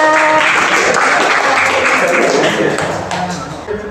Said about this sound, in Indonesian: tepuk tangan dulu dong buat temennya